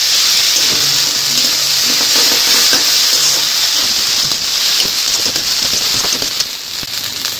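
Ginger garlic paste frying in oil with already-fried onions for mutton biryani gives a loud, steady, close hiss that holds without a break throughout.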